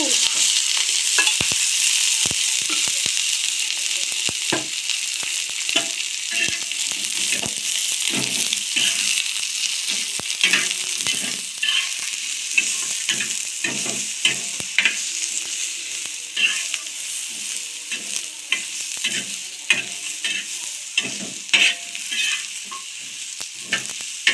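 Eggplant dish frying in oil in a pan, a steady bright sizzle running throughout with frequent sharp clicks and scrapes of a spoon stirring, close and continuous.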